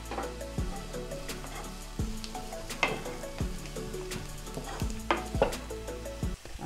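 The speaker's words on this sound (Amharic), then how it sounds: "አብረን ትንሽ እናቁላላለን።" Chopped garlic sizzles in a pan while being stirred for an Ethiopian fasting cabbage and potato dish, with a steady frying hiss broken by repeated scraping strokes of a utensil, close and alone.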